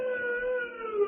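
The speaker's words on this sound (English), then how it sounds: "And then I heard that siren in the distance." A distant prison siren wails in a steady, slowly sliding tone, heard alone and moderately faint in an old-time radio drama from 1945.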